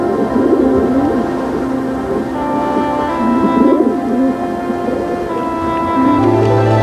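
A dove coos in soft, repeated low calls against a steady outdoor background, with other birds faintly audible and no speech.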